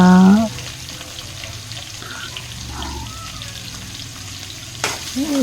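Biryani spices, cloves and cinnamon fry in a pan with a spoon of ghee and two spoons of oil, making a steady, moderate sizzle, with a brief voice at the start and end.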